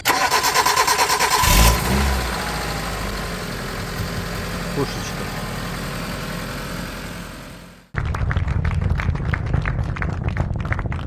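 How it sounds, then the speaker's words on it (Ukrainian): A petrol Mitsubishi Lancer engine cranks briefly, catches and settles into a steady idle. After a sudden cut it returns as a louder, rough, pulsing run, close by and with no clear talk over it. "Це що він запустився на бензині, так?"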